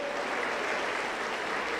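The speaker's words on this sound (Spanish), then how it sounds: "Aplauso contento para Jesús." Steady, dense applause from a large congregation at a Pentecostal church service in Junín, Peru, continuous and fairly loud throughout.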